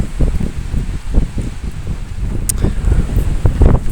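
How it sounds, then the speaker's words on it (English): Strong outdoor wind buffets the microphone in a steady, loud roar with gusty pulses and some rustling throughout. "wow, there's so much wind there"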